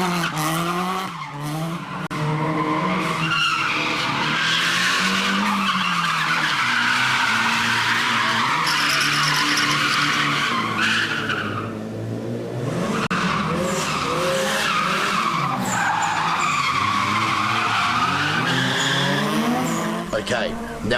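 Drift cars skid with long, wavering tire squeals over revving engines, loud and continuous with rising and falling pitch, while a narrator speaks over the noise.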